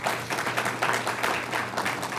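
A room of attendees at a school board meeting gives a trustee a round of applause, many hands clapping in a dense, fluttering wash at moderate volume.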